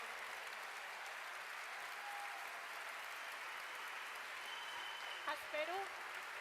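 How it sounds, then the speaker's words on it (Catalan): Steady audience applause at a Catalan independence rally fills the whole stretch, a dense even wash of clapping heard from within the hall, with a brief voice or whistle rising near the end. "Sisplau, un fort aplaudiment per ells."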